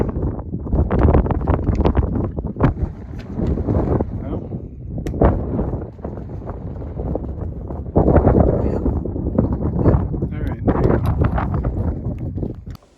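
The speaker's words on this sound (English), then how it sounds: "I'm not sure if you can hear me because it's windy up here" Strong mountain-top wind buffets the microphone in loud, uneven gusts, a steady roar with occasional rumbling bursts close to the mic.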